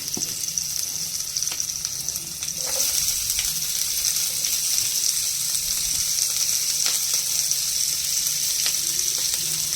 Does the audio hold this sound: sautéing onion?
yes